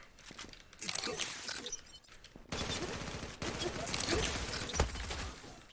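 Bursts of rapid AK-47 gunfire in the game Zula crackle in two stretches, with a brief gap between them, plus faint footsteps and clatter.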